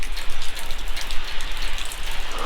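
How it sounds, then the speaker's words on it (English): Steady rain falling on a surface, a dense hiss with a faint low rumble underneath, continuous and fairly loud. "I guess it's like raining right now."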